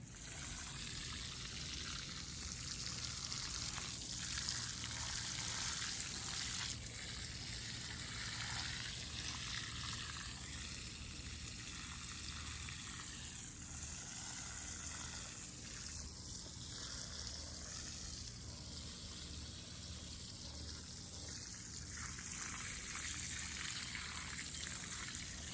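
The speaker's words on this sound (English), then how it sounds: "I'm gonna give these babies a little water, just to settle the roots around the soil" Water pours and trickles steadily onto soil around young corn plants in a small 2x4 garden bed, a soft continuous hiss with faint splashing textures.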